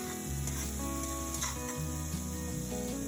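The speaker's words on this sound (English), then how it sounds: "Now let's stir fry our salt and pepper shrimp." Salt and pepper shrimp stir frying over high heat in oil with minced garlic, a loud steady sizzle with stirring, with tonal hum lines running underneath throughout.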